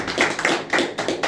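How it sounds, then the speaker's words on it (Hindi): A congregation claps for the Lord during a church service, a quick run of rhythmic group claps, loud and close. "एक अच्छा ताली बजाएं प्रभु के लिए।"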